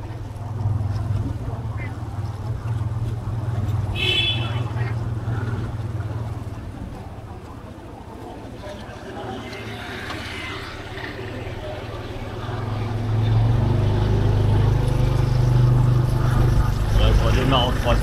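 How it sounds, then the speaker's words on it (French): Yamaha PG-1 motorcycle pulling away in third gear on a quiet urban morning street, a steady low engine drone that swells louder toward the end, with wind rush over it. "Je redémarre en troisième, sans aucun problème."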